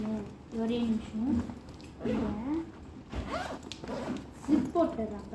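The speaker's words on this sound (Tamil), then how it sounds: "ஜிப் போட்டது அப்போ தான் உங்களுக்கு தெரியும்" A school bag's zipper is pulled closed in several quick rasping strokes, close and clear, while someone talks over it.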